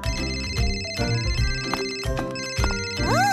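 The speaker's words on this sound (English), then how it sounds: "It's the phone!" A phone ringtone plays a repeating electronic melody in regular rings, clear and fairly close, with no voices over it.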